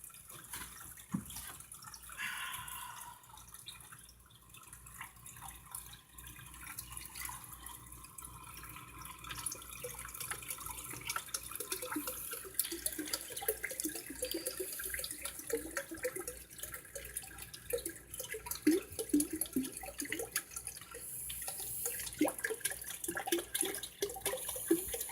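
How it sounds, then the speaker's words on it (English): Water pours steadily into a fish tank, a continuous splashing trickle that grows slightly louder and busier over about twenty-five seconds, with no voices. "So there's 2 gallons of water back in the tank."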